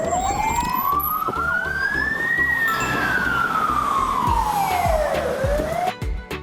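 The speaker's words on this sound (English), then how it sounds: "This is an ambulance" One long siren wail climbs in pitch, then slowly falls, loud and continuous, with no talking.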